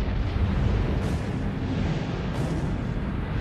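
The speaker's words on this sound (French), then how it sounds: "Une explosion de rayons gamma ou sursaut gamma." Sound effect for a gamma-ray burst explosion from a dying star collapsing into a black hole: a continuous deep rumbling roar with hissing texture, loud and sustained for the whole stretch, no voices.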